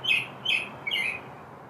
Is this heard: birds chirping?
yes